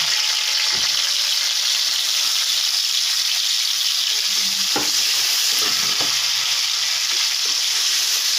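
Chickpeas fry in a hot pan with a constant bright sizzle, punctuated by a few sharp clicks and spoon knocks as they are stirred, close and alone without talk.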